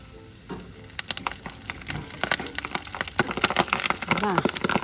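Hot oil sizzling steadily as chicken feet fry, with sharp popping and crackling bursts that grow busier toward the end, close by.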